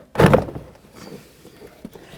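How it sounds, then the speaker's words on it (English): Door panel being lifted straight up off the inside of a 1999-2007 Ford Super Duty F-250 front door, giving one close, loud plastic clunk and rustle followed by faint scraping and small knocks. "Now we're just going to lift straight up on the door panel and get it out of the way."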